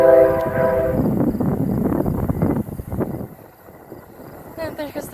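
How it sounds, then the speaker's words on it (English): A train rumbles past with a horn blast at the start, the roar gradually fading as it moves away. "And there goes the train."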